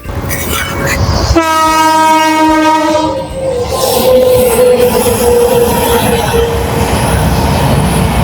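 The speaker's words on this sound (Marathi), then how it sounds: "मुंबई लखनौ पुष्पक एक्सप्रेस आहे" The Mumbai–Lucknow Pushpak Express sounds a long, loud horn blast as it passes close by a railway junction near Manmad, followed by a sustained roar of wheels and carriages rushing past.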